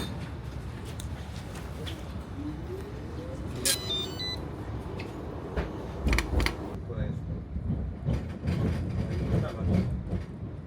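Rumbling ride aboard a tram in Budapest, low rolling rail noise with clicks, squeaks and a passing screech, steady throughout.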